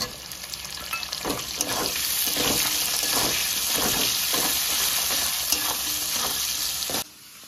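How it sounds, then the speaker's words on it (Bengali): Chopped onion with about one and a half spoons of sugar sizzling and frying in a pan, a steady loud crackle with rhythmic stirring scrapes throughout, ending abruptly near the end. "সামান্য নেড়ে নিয়ে দিয়ে দিচ্ছি পেঁয়াজ কুচি"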